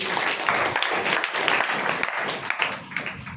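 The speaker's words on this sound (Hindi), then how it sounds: "ताली बजाओ इनकी दोनों की" Audience clapping at a Brahma Kumaris spiritual talk, a steady dense patter of many hands held at moderate level throughout, with a faint voice underneath.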